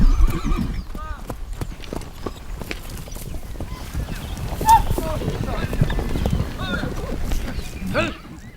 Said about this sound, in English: the riders round up the horses, trying to make sure the untamed colts are trapped in the center so they can be caught using a pole